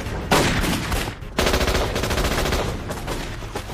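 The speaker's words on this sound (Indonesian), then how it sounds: "Paul berusaha menyelamatkan Rick di tengah peluru yang berseliweran di atas kepalanya" Loud, close gunfire from an action film scene about a heist against corrupt officials, with rapid automatic bursts and sharp shots, the second burst hitting hard and continuing under a dense, chaotic mix.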